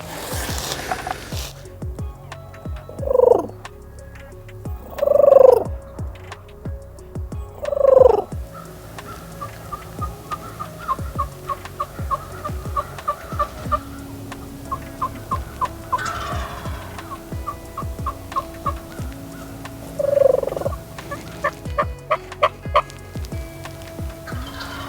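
A wild turkey strutter gobbles out in the open during Wisconsin turkey season, with four loud, rattling gobbles spaced several seconds apart over quiet morning ambience.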